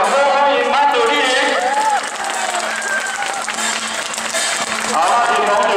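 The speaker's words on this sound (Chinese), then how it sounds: "各位同学热烈掌声欢迎班主力" Junior high students at a school gathering for a Mazu pilgrimage procession applaud warmly, a dense, steady wash of clapping that holds for several seconds, with voices mixed in the crowd.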